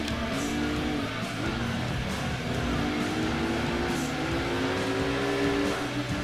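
Racing cars in the video game Gran Turismo 2 make a steady, moderately loud engine drone with shifting pitch as they accelerate, heard continuously without talk.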